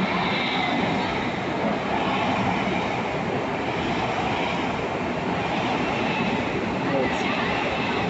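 A train running in double traction rumbles steadily and loudly throughout, close by with continuous rolling wheel noise and a faint squeal near the end.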